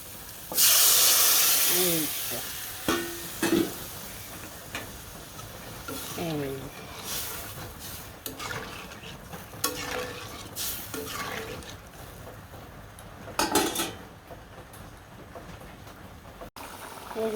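Potato and egg curry sizzles and hisses in a pan after water is added, with spoon stirring and scraping, a loud burst of steam at the start, and occasional talk.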